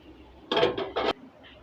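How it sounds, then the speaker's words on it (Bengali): Three quick metallic clinks and scrapes of a utensil against a bowl as beef cooked in tomato sauce is served, close and fairly loud, with no talking. "পরিবেশন করার জন্য একটা বাটিতে বেড়ে নিচ্ছি।"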